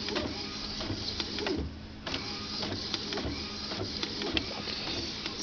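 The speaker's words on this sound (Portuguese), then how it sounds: "E aparentemente ele está imprimindo." Epson printer printing while its print carriage jams and makes a strange noise, a continuous mechanical whir with rhythmic clicks and shuttling passes, close and steady, with a brief lull midway.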